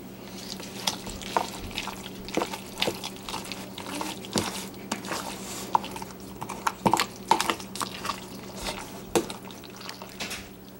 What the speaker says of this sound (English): And then at that point, go ahead and mix it up.